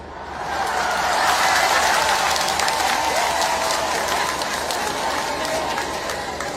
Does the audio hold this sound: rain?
no